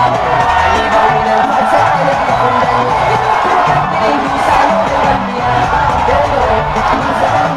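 Thousands of people crowd around as a presidential motorcade leaves an airport terminal, raising a loud, sustained wall of cheering, whooping and shouting. The roar stays dense and unbroken from start to finish.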